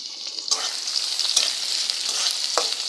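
Chopped onion, about half a cup, sizzles in a pan of browned greens for a water spinach stir-fry, a steady hiss with a few louder spatters and stirring scrapes, close and alone.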